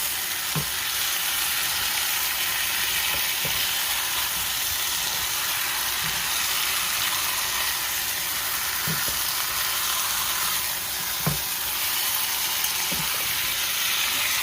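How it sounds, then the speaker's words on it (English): Jamaican-style curry chicken fries and sizzles steadily in a pot, a dense continuous hiss that holds at one level throughout, with a few soft clinks and stirring knocks scattered through it. "Let it cook a little bit. just to burn the curry a little bit before you start cooking it"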